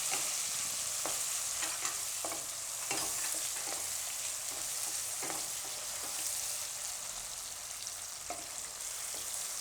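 Tomatoes stirred and frying in hot oil for a potato and rajgira dry bhaji, a steady broadband sizzle running throughout with soft intermittent scrapes and taps of the spoon, close and unbroken, no talking.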